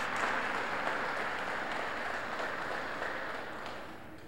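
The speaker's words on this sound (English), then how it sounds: "Another round of applause for our girls softball honorees" Sustained applause from a crowd at an all-star awards event honoring girls softball players, a continuous wash of clapping that slowly fades.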